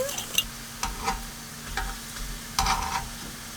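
Homemade cinnamon sugar sticks toast in a lightly oiled pan, giving a steady soft sizzle broken by several louder bursts of stirring and scraping, up close and without talk.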